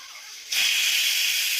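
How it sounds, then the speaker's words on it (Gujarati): Mustard seeds crackle and hiss as they hit hot oil, a sudden loud, steady sizzle that starts partway in after a quieter hiss and carries on without talk. "અને હવે આપણે તેલ આવી ગયું એટલે એમાં નાખશે રાઈ"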